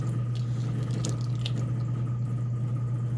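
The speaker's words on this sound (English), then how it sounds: "And the evaporated milk, pouring it in." Evaporated milk pours into a pot of thickening porridge, a soft close trickle and faint liquid splashes over a steady low hum from the stove or kitchen.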